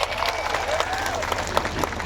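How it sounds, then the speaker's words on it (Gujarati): Crowd applause at a Garbada political rally for MLA Chaitarbhai Vasava, a steady wash of many hands clapping with a faint voice drifting underneath. "બધા માટે એકવાર આપણે જોરદાર તાળીઓ પાડી લઈએ"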